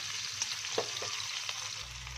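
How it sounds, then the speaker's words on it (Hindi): Sliced okra frying in hot oil in a pan while being stirred, a steady close sizzle with occasional soft scrapes and clicks of the utensil, no talking. "इस तरह भिंडी को हम फ्राई करेंगे"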